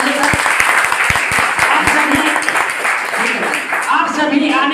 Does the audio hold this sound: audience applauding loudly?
yes